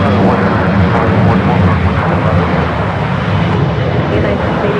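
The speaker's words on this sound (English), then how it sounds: "767-300 coming in from Atlanta." Boeing 767-300 airliner arriving at San Francisco airport, a loud continuous jet roar filling the whole stretch, steady and close with a slight easing toward the end, with a voice faintly under it.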